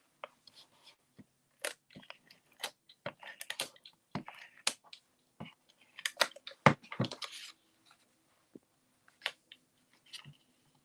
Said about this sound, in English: So I'm going to use the tape runner again.